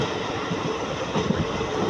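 The Rangiya Express, train 15968, runs at high speed on its tracks, a steady loud rumble and rattle of wheels and carriages heard from on board, continuous throughout.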